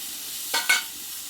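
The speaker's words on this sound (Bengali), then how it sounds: "ধনিয়ার পাতাটা দিয়ে আমি একটু নাড়াচাড়া করে নেবো মশলাটা দিয়ে মশলাটা আমি একটু কষে নিয়েছি" Spiced masala with chopped coriander leaves is stirred in a frying pan for a Bengali potato and pointed gourd curry, with a low steady sizzle and two quick, close scrapes of the spoon.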